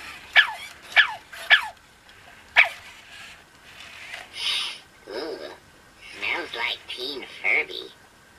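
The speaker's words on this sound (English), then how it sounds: "he's just barking at him forever" A small dog barks at a Furby toy in four sharp, yappy barks spaced over the first few seconds, then goes quiet while people talk nearby.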